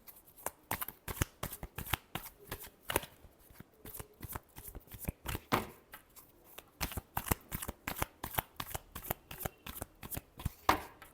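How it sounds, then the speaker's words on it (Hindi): Tarot cards shuffled by hand in a quick, steady run of crisp riffling snaps, close and fairly quiet, with no talking over them. "Last shuffle."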